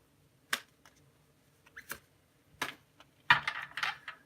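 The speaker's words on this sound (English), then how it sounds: "One last shuffle." Tarot cards being shuffled by hand during a reading, giving a few short separated riffles and flicks, then a denser burst of card shuffling near the end, close and fairly quiet with no talk.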